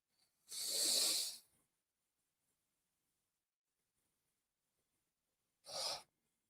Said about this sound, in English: I'm starting to yawn at y'all now